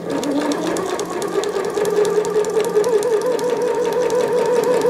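Rapid, steady mechanical whirring of a sewing machine stitching tulle ribbons with thin monofilament thread for a tutu skirt, running continuously and close up with no speech.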